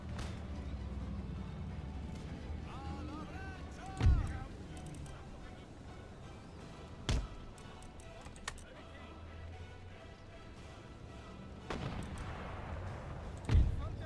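Gunfire and artillery from an Empire Total War battle, with sharp booming shots at intervals over a low rumbling battlefield bed and faint distant crackle.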